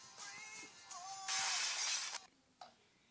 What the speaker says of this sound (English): hearing glass just smash